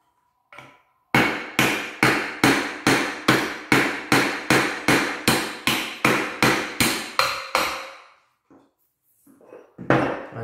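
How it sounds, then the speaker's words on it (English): Rapid, evenly spaced hammer blows on a metal sensor plate of a Mercedes KE-Jetronic fuel injection unit, about sixteen sharp, loud, close strikes in a steady rhythm, then a pause and a few more hits. "At first, let's do it with a hammer."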